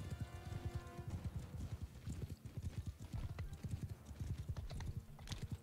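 Rapid, rhythmic hoofbeats of a galloping horse in a video game, steady and fairly faint, with occasional soft clicks like keyboard typing in the background.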